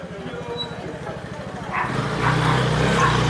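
Street dogs bark in Turkey, a few short close barks over a throbbing engine and traffic noise, fairly loud.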